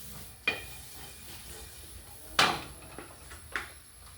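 Patola (sponge gourd) sautéing in vegetable oil in a kawali: a faint, steady sizzle broken by three sharp utensil scrapes against the pan, spaced a second or more apart, close up with no talking.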